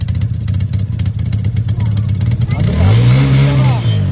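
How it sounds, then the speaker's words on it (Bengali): A motorbike with a cold engine revs to warm up, a steady mid-pitched running note swelling into a louder, rising rev near the end, with voices mixed in. "একটু ইঞ্জিনটা গরম করে নিচ্ছে।"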